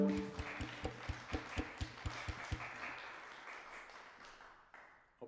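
Audience clapping at a live music gig in Wednesbury Library, a rhythmic run of roughly a dozen claps in time over a sung note, then looser scattered applause that fades, ending with a brief voice.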